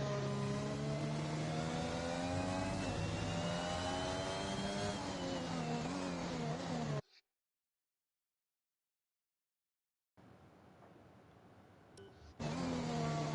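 Race car engines from the F1 2021 video game at the Hungary circuit roar loudly and steadily with rising and falling pitch, cut to total silence midway, then return as a quieter hum before growing loud again.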